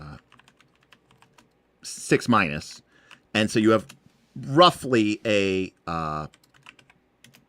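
A computer keyboard tapped in quick, faint clicks between stretches of someone talking close by.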